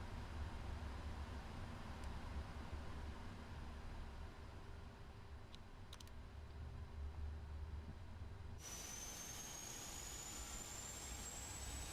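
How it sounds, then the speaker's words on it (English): Boeing 777-300ER engine starting up in a flight simulator game, a steady whooshing jet roar that suddenly brightens with a rising high whine partway through, continuous and moderately loud with no talking. "let's get that engine start up and see how it goes."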